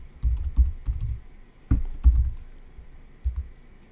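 Several bursts of computer keyboard typing as a terminal command is entered, uneven clusters of close, crisp key clicks with short pauses between them.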